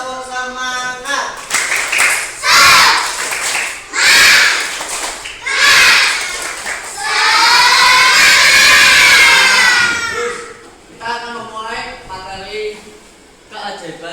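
Third-grade schoolchildren in a primary school classroom chant and clap the tepuk semangat together in loud rhythmic bursts, with shouted voices, a long sustained cheer in the middle and a teacher's voice between phrases.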